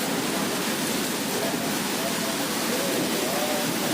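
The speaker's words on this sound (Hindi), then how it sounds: "बहुत ख़तरनाक बारिश आ रही है।" Heavy rain in Bengaluru, a steady dense hiss of downpour that stays loud and even throughout, with a faint low rumble beneath and no voices.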